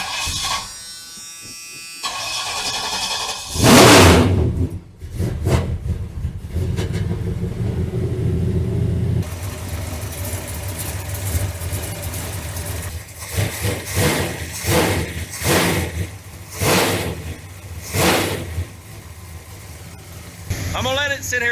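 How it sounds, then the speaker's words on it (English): A car engine cranks and fires up after a flex plate repair, then settles into a steady low idle rumble with a few revs rising and falling, loud and close. "Now that the flex plate is attached to the motor, let's see if it'll fire up now."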